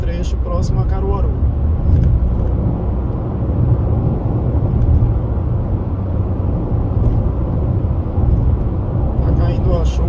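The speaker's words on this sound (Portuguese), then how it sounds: "Esses horários agora sempre tem um certo movimento de carros, de caminhão também" Cars and trucks pass along a highway stretch near Caruaru in the late afternoon, a steady broadband road rumble that rises and falls as vehicles go by, with talk over it throughout.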